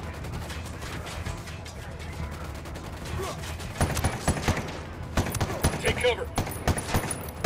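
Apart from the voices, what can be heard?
gunfire from video game Ghost Recon Wildlands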